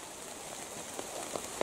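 Steady rain falls at night outdoors during a light-trap insect collecting outing, a soft continuous patter with a few slightly louder drops standing out near the end.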